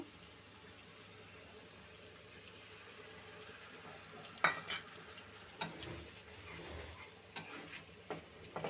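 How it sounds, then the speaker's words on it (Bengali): A fish curry spice paste of chili, cumin and coriander powder mixed with water sizzles softly in a pan, broken by a few sharper scrapes and clinks of a spatula against the metal as it is stirred. "ভালো করে মশলাটা কষিয়ে নেব"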